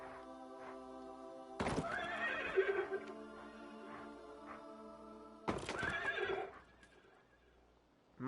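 Carousel horse in Planet Coaster neighing twice, each a loud whinny with hoof clip-clop, separated by a quieter stretch of steady tones, ending in near silence.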